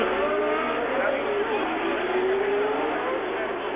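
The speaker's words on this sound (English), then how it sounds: "As Villeneuve sprints away up the hill, and the two Ferraris would seem to have it made already" Formula One Ferrari race cars from 1979 at the Monaco Grand Prix scream past in a steady, loud engine roar whose pitch rises and shifts as they accelerate uphill, with a voice heard underneath.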